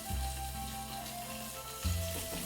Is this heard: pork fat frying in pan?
yes